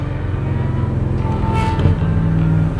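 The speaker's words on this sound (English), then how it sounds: "Damn, that Vantage sounds nice." A Vantage sports car engine hums steadily and loudly throughout at a cars and coffee drive, with a low rumble and a slight rise in revs toward the end.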